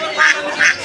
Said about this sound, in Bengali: এগুলো বাড়ির হাঁস।